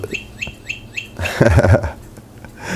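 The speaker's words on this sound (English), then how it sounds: "that's my cuckoo clock" A cuckoo clock calls out four quick, evenly spaced chirping notes, followed by a short burst of whirring, clunking mechanism.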